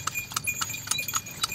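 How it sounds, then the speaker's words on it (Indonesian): Horse hooves clip-clop in an irregular trotting rhythm, a string of crisp hollow knocks with jingling overtones, fairly faint and somewhat distant, suggesting a horse-drawn carriage approaching. "Mereka kembali mendengar suara kereta kuda."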